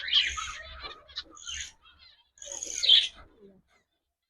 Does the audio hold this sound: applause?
no